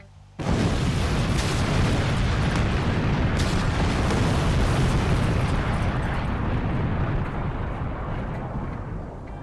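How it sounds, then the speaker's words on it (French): A sudden loud explosion in the GTA RP video game bursts in after a brief quiet start, then a long heavy rumble that slowly fades over several seconds, with no speech. "Je sais pas du tout d'où venait l'explosion."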